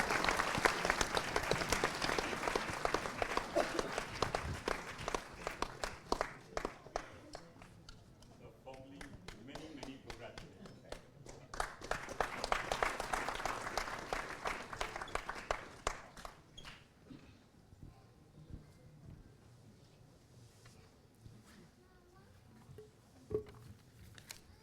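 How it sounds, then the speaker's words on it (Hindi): An audience at a book launch applauding to welcome a guest, with two swelling waves of clapping from many hands that fade out toward the end, leaving scattered claps and murmuring. "ज़ोरदार तालियों के साथ स्वागत करिए"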